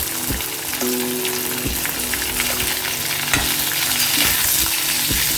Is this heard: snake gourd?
yes